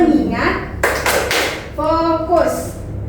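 A group of children in a classroom counselling session perform the Tepuk fokus clapping game, with sharp bursts of claps between short chanted voices, close and loud.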